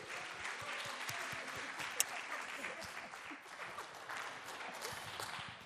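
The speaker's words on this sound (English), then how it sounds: "Let's give her a big round of applause." An audience at a media festival applauds with steady, faint clapping that fills the room from a distance, with a few louder individual claps poking through.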